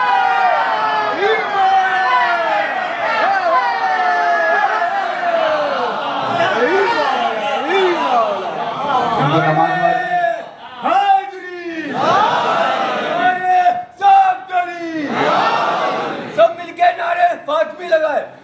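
A crowd of mourners at a majlis-e-aza chants the response 'Ya Zahra' to a slogan, voices loud and massed in repeated swelling calls, with a lone voice leading between the responses.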